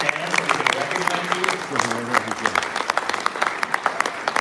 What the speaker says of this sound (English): So I want to give them another round of applause.